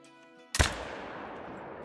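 A single loud, sharp rifle shot fired at a buck in the hunting game Call of the Wild, followed by a long fading echo over quiet outdoor ambience.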